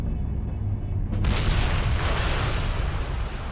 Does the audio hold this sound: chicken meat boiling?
no